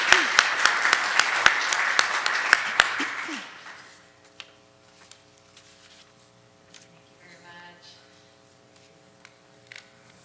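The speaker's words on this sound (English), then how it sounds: "I'd like to have a round of applause" An audience at a meeting bursts into loud applause for about four seconds with a few sharp individual claps, then it fades out, leaving quiet room sound with faint tonal hum and a few soft noises.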